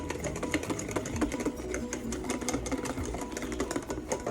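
Sauce for eggs Benedict whisked rapidly in a bowl, a fast continuous metallic ticking and scraping that keeps an even, busy rhythm throughout.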